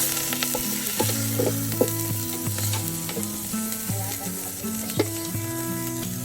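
Ground meat frying in a pan, a steady close sizzle with occasional stirring scrapes and clinks, and no talking.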